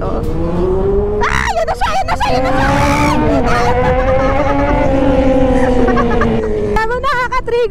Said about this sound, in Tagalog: Nasa likod maririnig lang yung motor mo